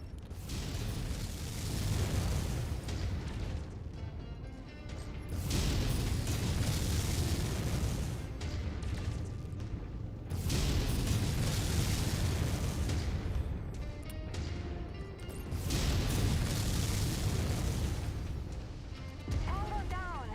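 Mech weapons fire over and over in MechWarrior 5, with heavy booming explosions in long rolling bursts that rise and fall across the whole stretch. Radio-style voices speak intermittently underneath.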